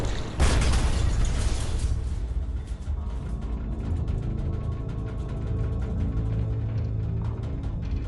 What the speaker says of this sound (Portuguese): Mais uma bomba de profundidade explode.